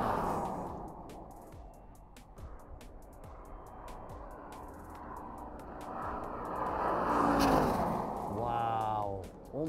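A Mercedes SLK 55 AMG with a 6.3-litre engine rushes past on an airfield, its engine rising from a distant rumble to a loud pass before fading away, while spectators talk over it.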